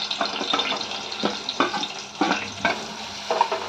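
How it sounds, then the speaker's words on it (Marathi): Spice masala sizzles in hot oil with cumin seeds and curry leaves. Several rhythmic stirring scrapes cut through the steady frying hiss, close and fairly loud, with no talk. "मसाला आपल्याला चांगला तेलामध्ये असा काही सेकंद परतून घ्यायचा"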